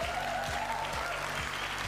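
An audience claps steadily at the introduction of a billiards match featuring Efren Reyes, a soft, even patter of applause heard from a distance with no voices over it.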